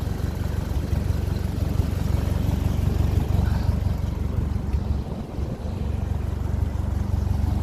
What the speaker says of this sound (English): Odd little spit from the exhaust